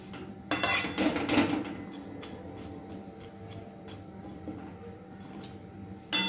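Utensils clink and scrape in a cooking pot as water and ingredients are stirred together for a vegetarian banana-flower dish with chickpeas and coconut, with a burst of stirring near the start, quieter scraping after, and a sharp clink at the end.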